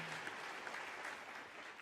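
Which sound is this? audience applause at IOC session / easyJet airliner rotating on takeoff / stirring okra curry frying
audience applause at IOC session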